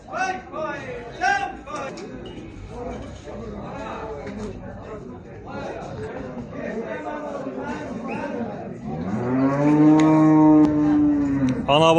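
At a livestock market in Maştağa, Azerbaijan, where a cow with her calf is offered for sale, people chatter steadily before a loud, drawn-out cow moo rises near the end and lasts a couple of seconds.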